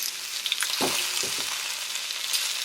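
Chicken pieces for kung pao sizzle and fry in a hot pan, a constant bright hiss with a few soft scraping stirs and clunks partway through, close and alone without speech.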